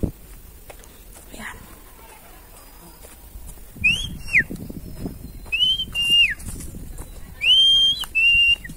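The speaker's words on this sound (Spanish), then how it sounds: "Yo soy la que estaba silbando por ahí." A person whistles on a street in Ciudad Arce, El Salvador, giving three short rising-and-falling whistles, loud and close, over faint background noise and bits of talk.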